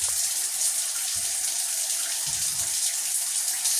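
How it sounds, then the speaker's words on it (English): Water running and trickling steadily as a wrung-out African net sponge drains, a continuous close splashing flow with no voices. "See all that water, drain it out."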